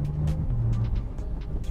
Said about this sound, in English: You can hear the car popping as you let off the gas as well.